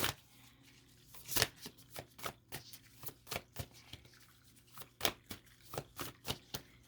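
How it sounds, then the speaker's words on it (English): Crystal oracle cards shuffled and drawn by hand, heard as a close series of quick, crisp card flicks and riffles in an uneven rhythm with no talking. "let's get a crystal card out here as we sum up this quickie"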